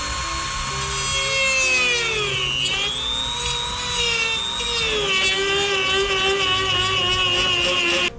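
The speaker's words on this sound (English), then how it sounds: "So I'll record a little bit of my first venture into plastic welding." Plastic welding on a custom intake for a BMW 750i: a loud, close tool whine drones steadily, its pitch sliding down and up as the work goes on, with no talk.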